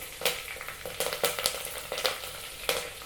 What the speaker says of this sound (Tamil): இதெல்லாம் சேர்த்து நல்லா மிக்ஸ் பண்ணி விடுங்க. வெங்காயம் நல்லா வதங்கட்டும்.